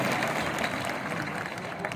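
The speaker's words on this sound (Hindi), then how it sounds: "एक बार तालियां हुकुम के सम्मान में बजा दीजिए" Audience applause at an all-India poetry gathering, a steady, fairly faint patter of clapping from a seated crowd that continues evenly throughout.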